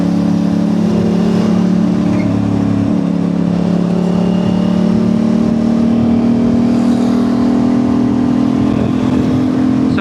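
An Aprilia RS660 motorcycle engine drones steadily while riding on the road, loud and close with a sustained rising tone and continuous rushing wind noise throughout.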